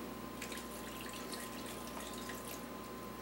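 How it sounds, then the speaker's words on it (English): Water runs steadily into a blender jar for a pizza base recipe, a continuous close splashing pour that stays even in loudness throughout. "I have to use some water in here."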